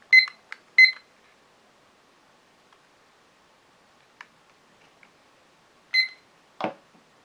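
A Hoinya kitchen timer gives short, sharp electronic beeps, a quick cluster of bright bleeps followed after a pause by another beep, plus faint clicks, heard close up in a quiet room.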